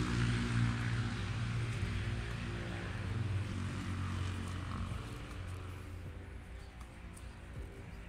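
Engine noise from passing motorcycles rumbles in the middle distance, swelling and fading as they go by, with a steady low drone throughout.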